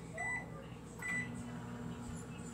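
A microwave oven heats a Whopper burger, its low steady hum running under faint beeps and a soft clunk, quiet and close throughout.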